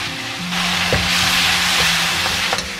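Chili pork with soy sauce sizzles loudly in a hot wok, with a few scrapes and stirs breaking through the steady frying hiss.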